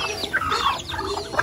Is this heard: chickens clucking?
yes